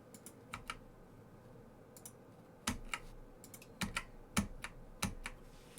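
Computer keyboard keys pressed during a game recording, sparse clicks at first and then a quicker run of crisp taps, close and fairly quiet.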